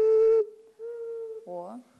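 A sasernai wind flute plays a bright held note, then a softer sustained tone, followed by a brief voice near the end.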